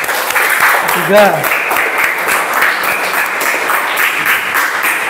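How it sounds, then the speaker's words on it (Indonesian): Students in an Indonesian religious-education classroom clap after a group presentation, a brief, close burst of applause under and around talking voices. "Tepuk tangan."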